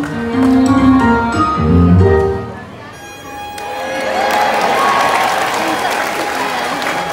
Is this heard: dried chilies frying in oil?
no